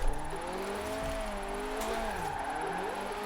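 A Fiat 131 Abarth engine in the Forza racing game holds high revs near the red line, a steady whining drone with gently wavering pitch, continuous and close with no talk.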